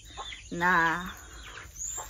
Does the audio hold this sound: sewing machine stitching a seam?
no